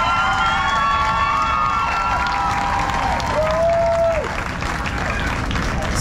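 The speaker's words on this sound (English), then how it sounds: "can we give a big round of applause" Loud, sustained applause from an outdoor audience at a singing competition in Times Square, with cheering and a bright whistle riding over the clapping throughout.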